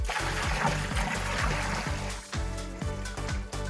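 Water rinsing out a pool filter tank, a continuous splashing gush broken by rhythmic pulsing surges, close and fairly loud with nothing else over it.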